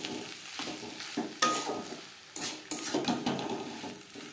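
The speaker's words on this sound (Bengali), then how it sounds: "ধনেপাতা পুরের সাথে বেশ ভালো করে মিক্সড করে দেব।" Vegetable chop filling with coriander leaves being stirred in a pan, repeated scraping and clinking of a spoon against the metal over a faint sizzle, in irregular close strokes.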